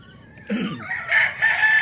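A gray gamefowl rooster crows once nearby, a loud, strained call rising and holding for over a second, with no talk over it.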